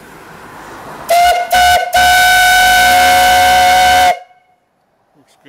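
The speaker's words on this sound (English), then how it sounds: "Now put a little handle on the whistle." A loud steam whistle on a Clint steam boiler and engine blows close by, two short toots followed by one long sustained blast that cuts off abruptly into near silence.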